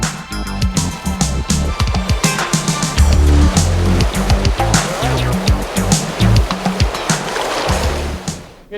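The free-flowing Lower Salmon River rushing through rapids, a loud continuous churning roar of water with splashy bursts and sloshing throughout.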